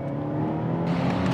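A 2024 Hyundai i30 Sedan N with an eight-speed dual-clutch gearbox blips its engine on a downshift to second gear, giving a brief, close, rising rev burst with no speech over it.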